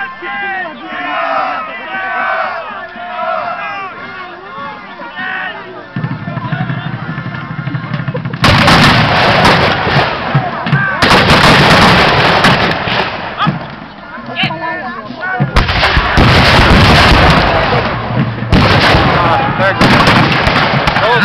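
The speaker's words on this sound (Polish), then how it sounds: "Artyleria anapolońska atakuje." Napoleonic-era artillery cannons fire during a reenactment of the 2011 battle for Koźle fortress, heavy booming blasts in loud sustained stretches mixed with crowd noise and a voice commentating over the field.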